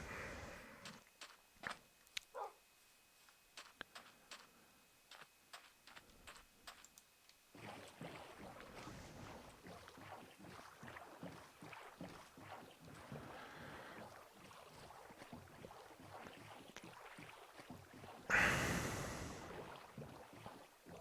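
A boat rows across water in Minecraft, with soft repeated paddle splashes and a faint wash of wind, growing a little fuller partway through and ending in a brief louder burst.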